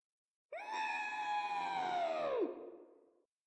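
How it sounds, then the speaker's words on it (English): A person screams into the void: one sustained, strained, high-pitched wail of about two seconds that bends downward at the end and trails off, loud and alone. "Let me go scream to the void."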